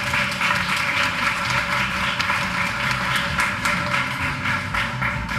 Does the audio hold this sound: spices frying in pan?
no